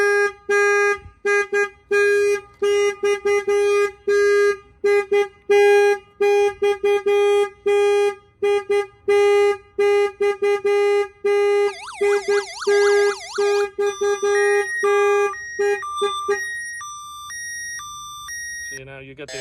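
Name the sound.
2020 RAM Promaster van security alarm going off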